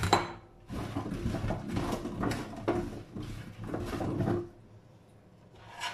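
Vegetables are rubbed with salt and oil in a baking tray for oven-roasted chicken, producing bursts of rustling, scraping contact against the pan. The bursts come in close, repeated strokes separated by short pauses, with no speech.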